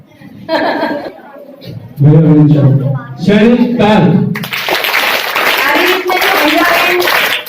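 Crowd applause at a teachers' honour ceremony at Saraswati Shishu Mandir school: after a voice speaks over a microphone, steady dense clapping from the audience fills the room and carries on loudly to the end.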